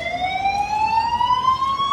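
An ambulance siren wails steadily with a slowly rising tone, loud and continuous against traffic rumble, with no talking.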